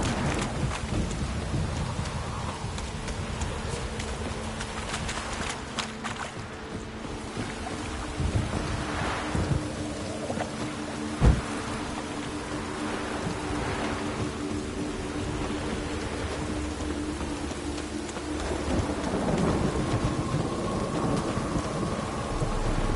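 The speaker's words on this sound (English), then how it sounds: "Rain again." Steady rain falls in The Witcher 3: Wild Hunt while thunder rolls through the storm, with one sharp, close thunderclap rising over the downpour midway and a low rumble throughout.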